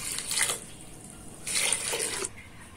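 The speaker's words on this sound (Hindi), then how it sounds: "अब हम इसमें 1 गिलास से पानी डाल देते हैं।" Water poured from a glass into a pressure cooker holding mutton khichda ingredients with salt and turmeric, two short splashing pours with a gap between them, close and moderately loud.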